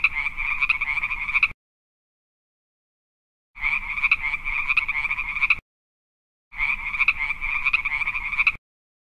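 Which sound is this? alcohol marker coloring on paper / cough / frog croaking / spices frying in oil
frog croaking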